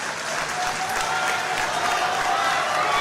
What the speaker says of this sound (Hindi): ताली मेरे भाई के लिए बजाइए।